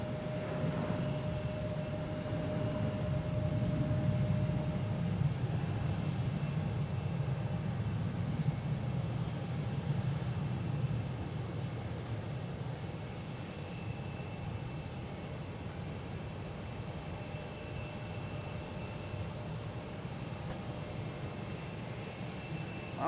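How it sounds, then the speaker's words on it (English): An Alaska Airlines jet takes off from Boston Logan for Portland, its engines a continuous broad roar that peaks early and then eases off steadily into the distance, with no voices over it. "We have Alaska Airlines taking here to Portland."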